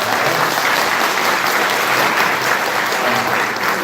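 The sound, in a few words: seminar audience applause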